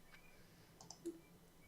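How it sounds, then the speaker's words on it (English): A few soft, quick clicks from a computer keyboard or mouse, faint and close, set against a quiet room background. "I can hear you clicking away"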